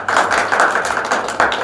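Audience members clap for a singer at a Bhojpuri singing competition stage show, a close, loud run of sharp, uneven claps lasting under two seconds.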